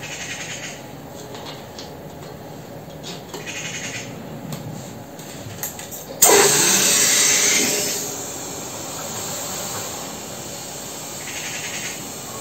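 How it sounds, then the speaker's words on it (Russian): Pump inflating an inner tube in a 1954 IZh-49 motorcycle tire, first a rhythmic quiet pumping, then a sudden loud hissing rush of air that gradually settles into a softer steady flow, no talking. "Так, теперь накачиваем."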